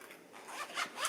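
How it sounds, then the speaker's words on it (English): A jewelry box being zipped shut, one short close zipper pull that quickens and brightens toward the end, with no voices. "Zip that up so I don't lose that"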